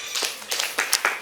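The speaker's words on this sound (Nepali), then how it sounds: "जोरदार ताली" Several distinct hand claps in a short burst, spaced unevenly and fairly close, with no talking.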